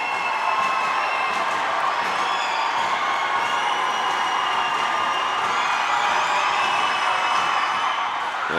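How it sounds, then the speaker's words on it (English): A basketball arena crowd roars continuously at a college game between Lynn and NSU late in a close contest, dense loud cheering and shouting sustained throughout with no break. "And here comes the crowd."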